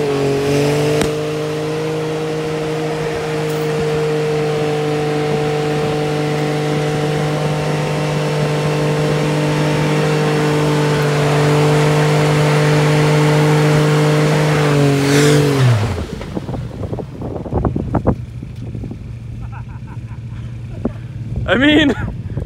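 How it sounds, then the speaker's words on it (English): A Mazda 3 engine holds a loud, steady high rev for about fifteen seconds during an attempted burnout, then drops abruptly and cuts off, followed by quieter clatter and voices. "Let's see if we can do a burnout."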